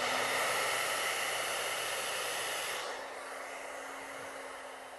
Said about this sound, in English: I'm going to blow the hot air going that way to help sort of activate the product that I used.